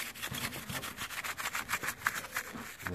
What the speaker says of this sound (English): And then just got one of these, a dish brush. Give it a thorough clean.